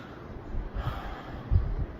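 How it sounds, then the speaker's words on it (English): After deliberate coughing, a deep breath is drawn in as part of a lung-clearing exercise. The inhale is soft and close, with a sharper snort-like pull of air near the end. "followed by a deep breath"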